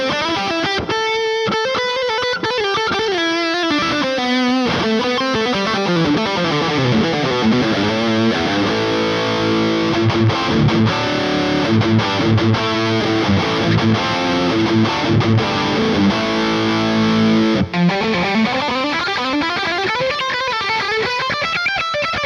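High-gain electric guitar through a Kemper profile of a boosted Marshall JCM 800, played as a continuous distorted riff with sustained chords and melodic lines, loud and close, with no talking.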